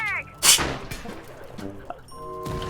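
A single sharp, loud gunshot cracks out in the tactical shooter Rainbow Six Siege, followed by scattered clinks and a ringing metallic tone, with the player's voice murmuring nearby.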